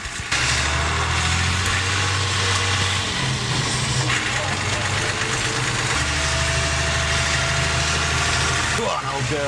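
A David Brown tractor's diesel engine idles steadily throughout, a low continuous rumble with a faint whistle near the end and speech-like sounds over it.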